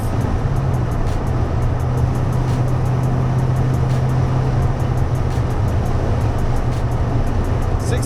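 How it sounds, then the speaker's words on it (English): A Foxbody Mustang cruises at about 65 mph in fourth gear and shifts into fifth, giving a steady loud engine drone and road roar heard from inside the car, continuous throughout. "This is fourth gear, about 65 miles an hour, going into fifth."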